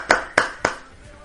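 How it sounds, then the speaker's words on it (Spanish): Three sharp hand claps in a quick, even rhythm, close and fairly loud, in a studio for a Spanish football nostalgia programme, followed by a quiet pause. "Y un fuerte aplauso"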